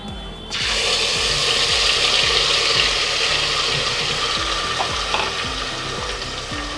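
Bay leaves sizzling in hot oil in a pot for dal gosht: a loud, steady frying hiss that begins abruptly and carries on with rapid crackling pops, close and unbroken.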